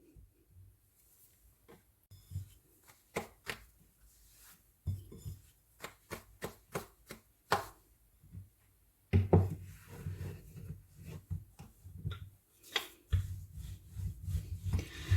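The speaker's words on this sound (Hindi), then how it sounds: "ड्राई आटा लगाएंगे और पराठे को बेल लेंगे" Gur paratha dough is rolled out with a rolling pin, producing a long series of soft wooden knocks and rubbing rolls in an uneven rhythm, close up, growing denser and busier toward the end with no speech.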